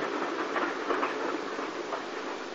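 A train on the Somerset & Dorset line, with a Great Western Collet 0-6-0 locomotive nearby, rumbles past in a steady wash of rolling noise and faint rhythmic clatter of wheels on rail, with no voices.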